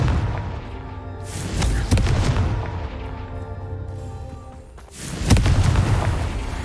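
Confringo blasting spell explosions in the Hogwarts Legacy video game, two heavy booming blasts a few seconds apart over a rumbling low background, loud and close.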